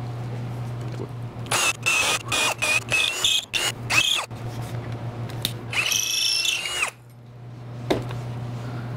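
Close power drill boring a hole in a board, a series of short whining bursts with stops and restarts, one longer rising run, a background hum throughout and a final brief burst.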